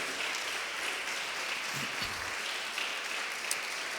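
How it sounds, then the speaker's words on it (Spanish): A church congregation applauds steadily, a dense wash of clapping that holds at an even level throughout. "Dale un aplauso a Él."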